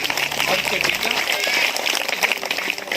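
A group at a village plantation event gives brisk applause, a dense patter of clapping lasting throughout, with voices mixed in beneath it.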